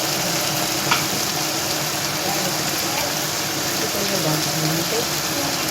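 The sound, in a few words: tomatoes frying with chicken and potatoes for pulao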